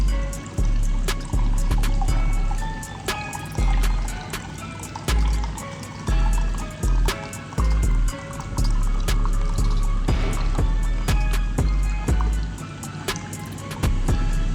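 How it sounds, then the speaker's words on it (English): Smirnoff vodka is poured into a Jell-O mix for shots, giving repeated glugging and splashing with short liquid bursts, drips and clinks, close and fairly loud. "in the place of the 2 cups of cold water, you put 2 cups of vodka"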